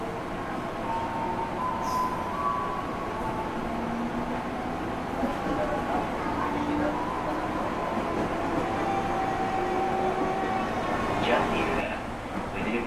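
Steady rumble of a KRL commuter electric train running on the Jakarta loop line, heard from inside the car, with rolling noise, faint whining tones and a continuous even roar throughout.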